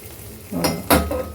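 A utensil stirs fried tempering into ven pongal in a pan, making two quick scraping clinks over a low background, with no talking.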